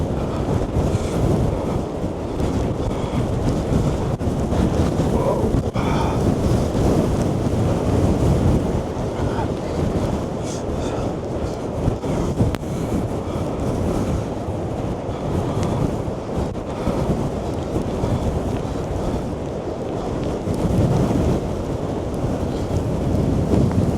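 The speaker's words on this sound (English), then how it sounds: "That is crazy, crazy strong wind." Storm Darragh's strong wind roars across the Blackpool seafront at high tide, with waves smashing against the seawall; a loud, continuous broadband rush with heavy microphone buffeting that lasts the whole stretch, and no one is speaking.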